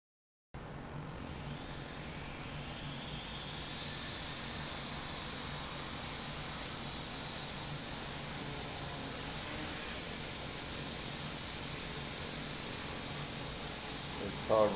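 A Blade MQX quadcopter hovers at about two-thirds throttle while lifting a 16-gram load, giving a steady, loud, high-pitched whine and rushing hiss that stays unbroken and close throughout.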